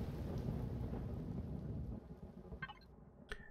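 Rain and thunder in the Empyrion video game: a dense loud rumble and steady downpour that drops off sharply after two seconds, leaving faint patter and a few brief sounds.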